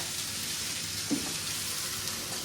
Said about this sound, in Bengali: অল্প অল্প করে ঘি দিয়ে আমি এই যে শুকনা শুকনা করেই ভাজতেছি